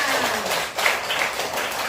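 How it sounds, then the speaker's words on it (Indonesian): A roomful of students in a classroom claps together in a thick, continuous wash of applause that stays steady throughout, with a faint voice briefly rising through it. "tepuk tangan"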